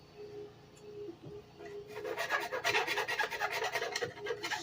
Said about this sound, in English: Got a few areas I'm going to touch up with a